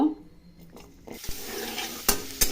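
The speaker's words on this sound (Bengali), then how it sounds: "তেল দেওয়ার পরে হালকা করে গাজরগুলো ভেজে নিব।" Carrots are fried lightly in oil in a pan, with a soft, steady sizzle running under a few sharp clinks and scrapes of a utensil against the pan.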